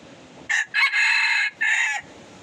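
A red junglefowl rooster, a freshly caught wild labuyo, crows once up close and loud, its call broken into a short opening burst and two longer sustained notes over about two seconds.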